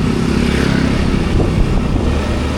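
Motorcycle engine running steadily and loudly on a night ride, a continuous dense rumble with wind noise close to the rider and no talk over it.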